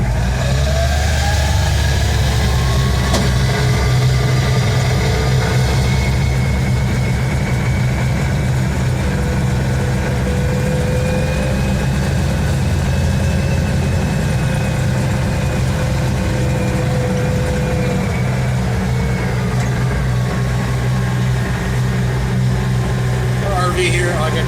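A Kioti K9 utility vehicle fitted with a track kit drives over rough ground, its engine running with a continuous, steady drone close to the microphone, accompanied by rumbling track noise.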